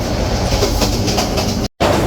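Sonar Bangla Express passenger train running on the Chattogram to Dhaka line, recorded up close by the open carriage door: a loud, steady rumble and rattle of wheels on rails with a brief gap near the end.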